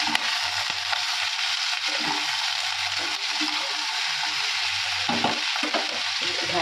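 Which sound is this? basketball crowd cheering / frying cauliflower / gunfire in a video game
frying cauliflower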